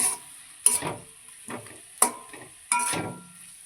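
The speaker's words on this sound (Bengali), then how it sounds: "আলু দিয়ে একটু কষিয়ে নেবো আবার" Potatoes with spices being stir-fried for a Bengali fish curry, a soft sizzle broken by four sharp scrapes and clinks of a spatula against the pan at uneven intervals, close and without speech.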